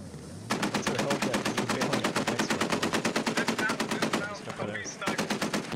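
Sustained automatic gunfire from the military shooter game Squad rattles in a steady rapid rhythm for several seconds, loud and close, briefly pausing before another burst resumes.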